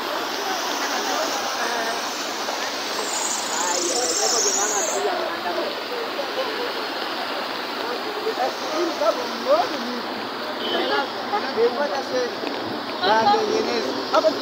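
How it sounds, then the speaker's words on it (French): Water of a large river near Kolwezi flowing with a continuous broad rushing hiss, steady and moderately loud, with faint intermittent clatter toward the end. "C'est une grande rivière."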